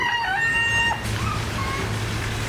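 A guinea fowl calls at a bird attraction in Escazu, Costa Rica, giving a loud run of harsh, tonal cries for about a second before fading into quieter outdoor background.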